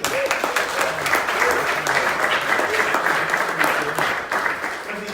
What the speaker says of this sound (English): Good round of applause for Josh and Scott, everybody.